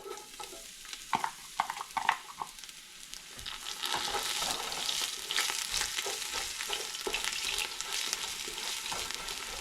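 Chopped garlic hits caramelizing cane sugar in a pan over medium heat for sweet and sour pork spare ribs, with a few sharp stirring clatters first, then a soft steady sizzle building underneath, fairly quiet.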